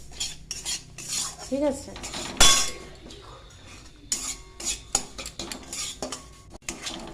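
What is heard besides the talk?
stirring and roasting semolina in ghee in a pan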